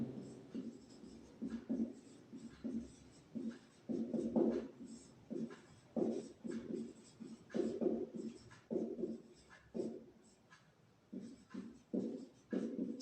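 Chalk or marker writing on a board during a maths lesson, a series of quiet scratchy strokes in uneven bursts with short pauses between words, faint and close.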